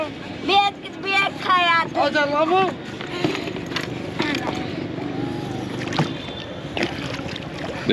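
A shikara rowboat on Dal Lake in Srinagar carries riders across the water, with a steady wash of water and wind noise throughout; people talk loudly over it in the first few seconds.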